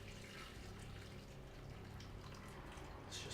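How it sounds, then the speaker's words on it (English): Beef stock pours steadily over browned meat and wine in a pot for beef bourguignon, a faint continuous liquid splash and gurgle with no voices. "Pour some stock in to cover all of the meat"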